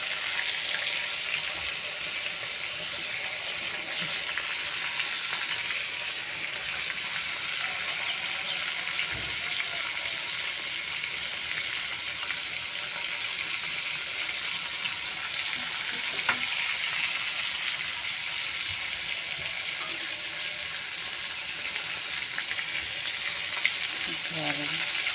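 Shrimp fry in a pan with a steady, close, continuous sizzle and crackle that carries on evenly for about twenty-five seconds, with no voices over it.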